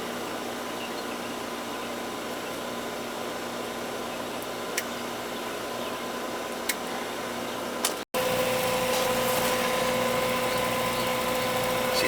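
Central air conditioner unit, low on freon and not cooling the house, running with a steady broadband whir and hum that shifts slightly louder and brighter partway through, with a couple of faint ticks.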